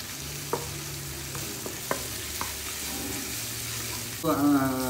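Tomatoes sauté in a pan of chicken curry masala, giving a steady close sizzle broken by light scrapes and taps from stirring, with a brief louder burst near the end.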